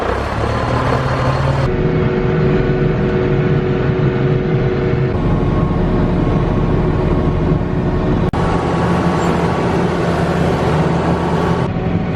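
A snowblower engine runs steadily and loudly throughout, a constant close motor drone with slight shifts in pitch, no talking over it.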